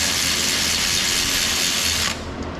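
A ratchet tightening bolts on a front differential brace of a Dodge Durango or Jeep Grand Cherokee, a loud, steady mechanical whirr held close for about two seconds before cutting off sharply.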